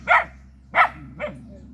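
A dog guarding a farm in Johnson Town, St. Thomas, Jamaica, gives three short, close barks, the last one softer, against a low steady background hum.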